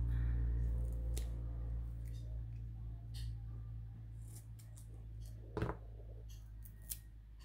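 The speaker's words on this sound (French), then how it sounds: "Alors, j'attrape mon ciseau." Scissors snip paper during card making with Kokorosa dies, a few short crisp cuts standing out over a steady low hum, with a sharper snip near the end.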